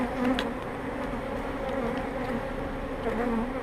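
Agitated honeybees swarm over an opened hive during a spring inspection, a dense continuous buzz of many bees close around, with no voice.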